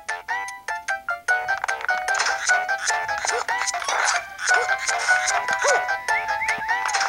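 Bright, bouncy chiptune-style level music from the Nintendo game Super Mario 3D Land, world 4-5, plays clearly with quick staccato notes and a lively melody, with no voices over it.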